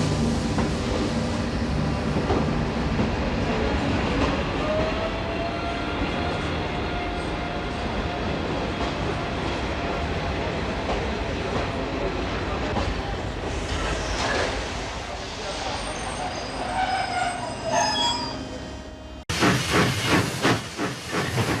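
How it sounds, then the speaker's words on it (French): A steam locomotive train arriving at a station hisses and rumbles loudly throughout, with clanking and a brief whistle-like tone, ending in a burst of heavy steam noise. "Le train numéro 5717, en provenance de Paris-Lyon, va entrer en gare d'hier."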